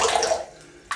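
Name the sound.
water squeezed out of shaving brush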